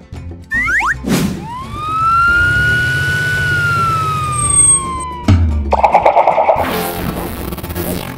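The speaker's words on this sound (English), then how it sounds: "Police car." A loud police siren wails in a long rising and falling tone, then switches to a rapid yelping pattern before cutting out.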